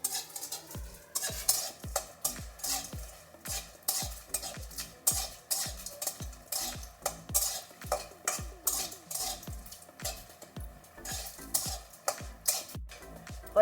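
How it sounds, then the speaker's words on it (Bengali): Tomato fries in a pan while a utensil stirs it in quick, regular scraping strokes, each with a short metallic clink, over a faint sizzle. The strokes continue evenly and nobody speaks. "টমেটো দিয়ে একটু ভেজে নেব।"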